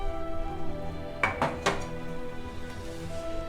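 A spoon quickly mixes lemon juice and cardamom powder into sugar syrup for khaja, an Indian sweet, giving three quick clinks against the pan over a steady background hum.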